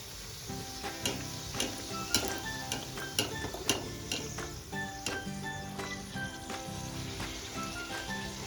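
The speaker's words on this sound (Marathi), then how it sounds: "आपण तेलात पुरी तळून घेऊया" Puri deep-frying in hot oil for aamras puri, a steady crackling sizzle with brief stirring clicks and scrapes throughout, close and moderately loud with no talking.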